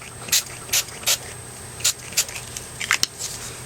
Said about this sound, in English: And I'm getting spray all over the place